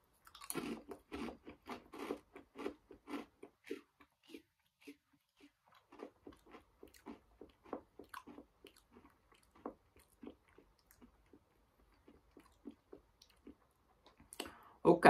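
Proper Chips jerk sauce flavour chickpea chips crunched and chewed close to the mic in a steady run of quick, crisp bites and clicks, with soft mouth noises between them and a louder burst at the end.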